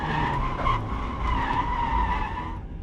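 A Mazda MX-5 Miata drifts on a wet winter practice day at a drift track, its tires skidding in one sustained loud squeal for nearly three seconds, close by.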